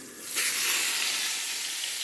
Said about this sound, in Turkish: Evet kızartma yapıyorum.